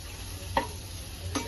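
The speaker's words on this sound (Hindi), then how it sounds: "यहाँ पर सब्जियां सॉटे हो रही हैं, बस मशरूम है, सोयाबीन है, शिमला मिर्च है" Mushrooms, soybeans and capsicum sautéing in a pan, a steady low sizzle with two brief scraping stirs, close and quiet with no voices.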